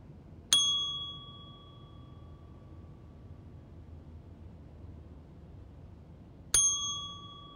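Two sharp, bright rings of a small bell, about six seconds apart, each decaying slowly into quiet room hiss.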